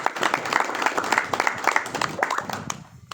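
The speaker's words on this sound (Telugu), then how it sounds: "చప్పట్లు కొట్టండి" A live audience claps together to cheer the organisers at a public talk, dense crowd applause rolling steadily for about three seconds and then thinning out near the end.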